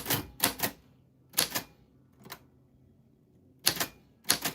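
Typewriter keys struck in short clustered bursts with pauses between, crisp and close, with no talking.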